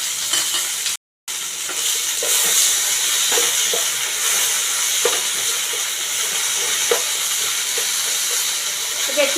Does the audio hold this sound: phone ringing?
no